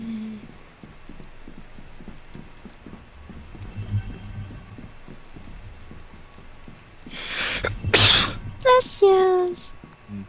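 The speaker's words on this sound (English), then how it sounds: "That was a sneeze." A single sharp sneeze bursts out near the end of a quiet stretch in the horror hide-and-seek game Dead Realm, following soft rhythmic footstep-like clopping, with a voice briefly after it.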